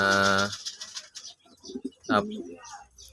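Racing pigeons kept in a loft coo briefly, a short close call at the start followed by softer bird murmurs and faint voices in the background.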